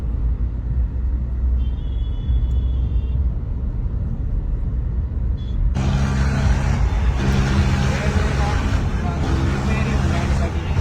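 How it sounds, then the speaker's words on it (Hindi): A heavy bulldozer diesel engine rumbles steadily throughout, growing louder and rougher about halfway through as it revs up nearby. "देखो भाई क्यूकर बजा रखा बुलडोजर"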